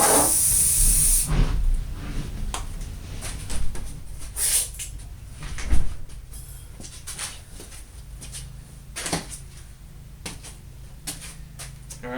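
Camouflage non-reflective finish sprays onto a red oak longbow in a loud hissing burst, then in shorter, fainter spurts spaced several seconds apart.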